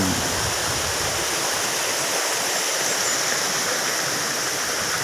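Water rushes steadily through a stream channel at a resort, a close, continuous broadband gushing that holds evenly throughout with no talk.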